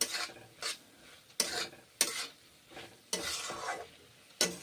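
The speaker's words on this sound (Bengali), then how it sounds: "এখন আদা সঙ্গে পটল বিনসের সঙ্গে কষে রান্না করছি" Pointed gourd and beans being stir-fried with ginger paste in a pan, with a spatula scraping and stirring in a steady rhythm, about five close strokes over a soft sizzle.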